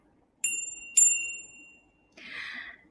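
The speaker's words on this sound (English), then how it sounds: "So I ask them to listen to the sound of the bell for as long as they can." A hand bell rung for a mindfulness listening exercise in a preschool classroom: two clear bright strikes ringing out and decaying, followed by a brief softer jingle, in an otherwise quiet room.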